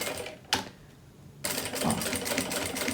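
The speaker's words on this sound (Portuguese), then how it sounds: "Então, já vou passar aqui a costura na beiradinha." Sewing machine stitching along the edge of a handmade school binder, a brief burst, a pause, then steady rapid stitching running close and continuous to the end.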